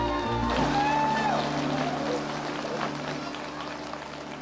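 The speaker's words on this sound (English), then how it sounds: "These guys have to clap." An audience at the LinuxWorld conference claps steadily, a broad, sustained patter behind a brief rising tone and some low hum.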